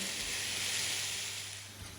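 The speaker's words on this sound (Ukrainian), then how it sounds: "додаємо шампіньйони та смажимо на середньому вогні до повного випарювання соку" Chicken pieces and champignon mushrooms fry over medium heat in a pan, giving a soft, steady sizzle that stays faint and continuous with no talking.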